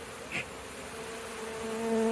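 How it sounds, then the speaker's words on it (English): Honey bees pour out of a rescued colony into a box, a dense, steady buzzing hum close by that swells slightly toward the end. "you can get the bees to come out, pour out, and into the box"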